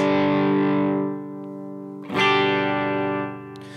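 Electric guitar played through an Apollo Approved Sawdust overdrive pedal with the gain knob at zero, sustained chords ringing with a compressed, slightly gritty tone, a second strummed chord midway, loud and close with no talking.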